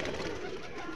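Several pigeons coo in a soft, continuous murmur close by, a steady low burbling that fills the short moment without any talking.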